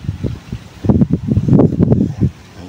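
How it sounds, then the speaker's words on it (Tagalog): Strong wind gusting across an open-air spot, loud buffeting rumble against the microphone in irregular bursts that build and fade over a few seconds. "Lakas ng hangin oh."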